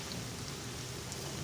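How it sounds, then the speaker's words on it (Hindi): Steady rain falls during a May rainy spell in Murree, a soft, even hiss that runs without a break through the short moment. "अभी भी बारिश जो है हो रही है"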